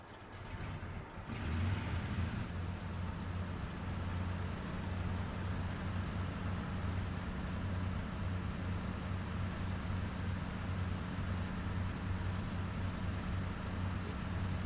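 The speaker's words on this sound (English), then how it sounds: "Engine seems to be turned on." A steady, droning aircraft engine hum in the flight sim game IL-2 with a low rumble starts after a brief pause and runs continuously, loud and unchanging.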